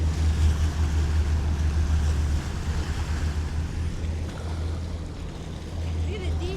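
A Whaler boat's diesel engine throbs with a low, steady drone as it passes through Haulover Inlet, loud and close with water rush and wind, easing slightly partway through, and voices faintly under it.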